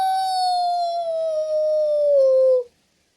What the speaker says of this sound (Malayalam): ചേട്ടാ കുറുക്കൻ ഓളിയിടുന്ന സൗണ്ട് കേട്ടോ